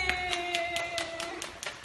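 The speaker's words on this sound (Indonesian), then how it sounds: "Tepuk tangan untuk Arfi" A classroom of pupils claps for a classmate in an evenly paced run of about eight quick handclaps, fairly faint, over a sustained tonal voice.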